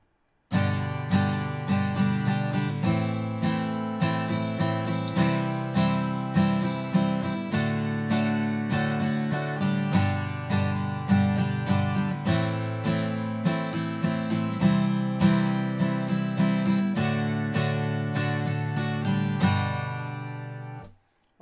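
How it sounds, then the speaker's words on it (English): Steady rhythmic acoustic guitar strumming with ringing chords, loud and close, repeating the same pattern for about twenty seconds before stopping. "playing some typical acoustic guitar strum along kind of stuff"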